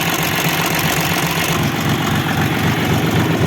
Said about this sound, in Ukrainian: Моторчик КМ385ВТ, саме ходовий мотор.